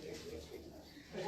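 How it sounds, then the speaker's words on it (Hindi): Pigeons coo softly on a rooftop where pigeon pairs are kept. Low, faint murmuring coos continue through the short moment, with a voice faintly in the background. "अच्छे कबूतर हैं"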